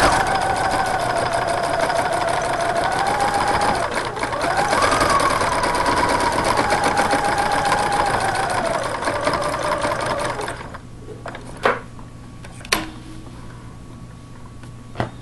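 Sewing machine stitching thread work on a top runs loud and close in a steady, rapid mechanical whir for about ten seconds, then stops, leaving a few sharp clicks and taps in the quiet.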